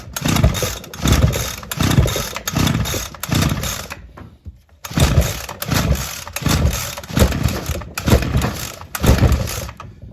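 A Ryobi SS30 string trimmer with a broken choke sputters and revs in rhythmic bursts as it tries to start, roughly eight loud, close pulses with a brief gap midway.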